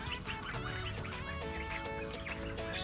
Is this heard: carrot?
no